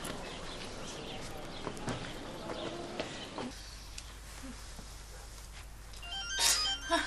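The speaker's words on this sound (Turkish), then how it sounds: "Kız, telefon. Benim de telefonum." A telephone rings faintly in a domestic scene, a soft repeating ring tone under quiet room noise, with a brighter electronic chirp near the end.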